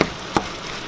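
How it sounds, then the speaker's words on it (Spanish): Taco meat fries and sizzles in a pan with a steady hiss, as a stirring scrape knocks twice, once at the start and again a moment later. "Aquí seguimos guisando la carne, todavía no está cocida, pero hay que estarle revolviendo muy bien para que se cueza parejo toda"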